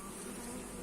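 Honey bees at an apiary hive during hive expansion make a steady, dense buzzing drone that stays close and even throughout, with no voices present.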